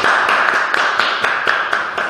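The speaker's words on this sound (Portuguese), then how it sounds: "vamos bater palmas aqui." A few people clap along in a radio studio after a pagode group's live song, giving a steady rhythmic beat of sharp, close claps at roughly four per second.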